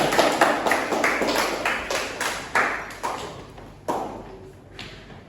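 A classroom of pupils clapping together in a burst of sharp, fairly close claps that come in a loose, uneven rhythm and gradually thin out.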